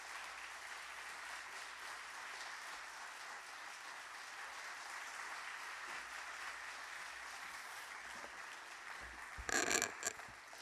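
A church congregation at a Friday service applauds to welcome a pastor to the pulpit, a steady far-off wash of clapping that holds evenly throughout and swells briefly louder near the end.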